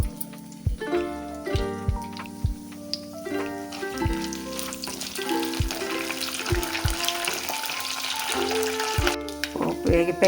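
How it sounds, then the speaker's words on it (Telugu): Mustard seeds, chana dal, urad dal and dry red chillies fry in hot oil for a tempering, with a steady close sizzle and sharp crackles and pops scattered through, while a low background hum runs beneath. "ఇవి పోపు వేయించుకోవాలి."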